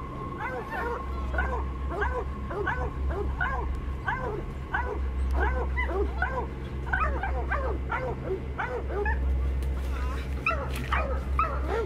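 Hunting dogs on a trail bark and yip repeatedly at a mountain lion up in a tree, a fast, excited string of barks over a low steady rumble, with voices talking underneath.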